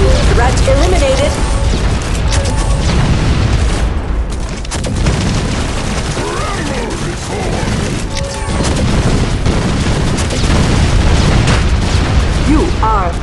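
A grenade goes off in a ranked team deathmatch shooter game amid a constant, loud wash of gunfire, booms and crashes, with in-game voice lines running over the din.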